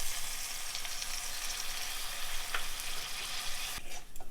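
Spice paste with turmeric frying in oil in a pan for a Bengali fish curry, giving a steady, close, continuous sizzle that holds evenly throughout with no voices, then thins at the very end.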